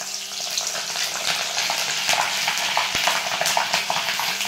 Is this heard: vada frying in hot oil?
yes